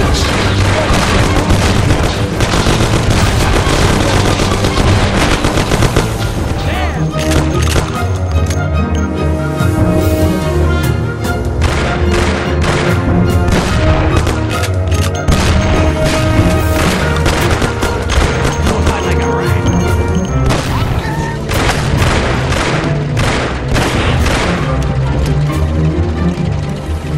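A shootout in the 2002 Mafia video game brings dense, continuous gunfire: rapid overlapping bursts and booming shots fill the whole stretch at high volume, with shouting voices mixed in at times.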